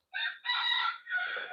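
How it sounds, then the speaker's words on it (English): A rooster crows nearby in three loud, drawn-out bursts separated by brief gaps, clear and alone with no talking. "1 for every rooster crow"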